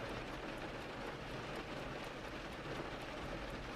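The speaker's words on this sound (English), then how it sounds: "the rain seems to briefly up its tempo before resuming its steady rhythm" Steady rain patters continuously on a surface, dense and even, with a low rumbling undertone throughout.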